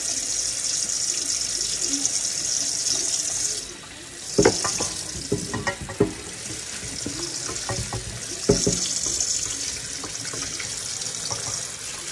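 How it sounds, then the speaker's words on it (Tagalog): Tap water runs into a sink while beef is rinsed, a steady hiss of flowing water that briefly drops away and returns, broken by splashes and clatter as the food is handled. "nilagyan ko siya ng konting tubig para mawala yung mga dumi-dumi"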